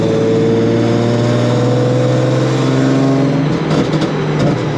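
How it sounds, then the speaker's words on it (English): Supercharged Nissan 350Z with a custom tune idling and rumbling loudly and steadily up close, its exhaust crackling and popping at light throttle, with a rougher, choppier patch near the end. "So like all that popping I think is supposed to be intentional. It's only whenever I barely touch the throttle."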